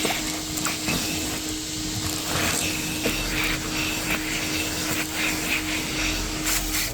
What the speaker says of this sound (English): Mostly trying to vacuum up the glass out of the seats and such.